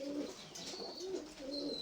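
Pigeons cooing in a dovecote, several soft low rolling coos repeating in a slow rhythm, close by with faint high chirps and no talking.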